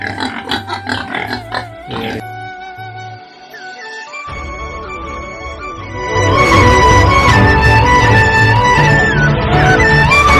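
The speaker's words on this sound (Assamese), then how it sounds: "এইকেইটা গাহৰিকেইটা এয়া 5টা আছে" Five pigs on a farm grunt and squeal in bursts that start choppy, then swell into a louder, continuous chorus of overlapping calls.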